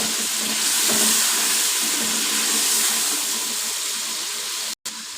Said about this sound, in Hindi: मसाला हमारा अच्छे से भून रहा है